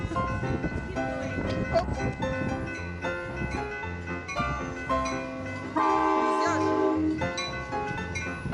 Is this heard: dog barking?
no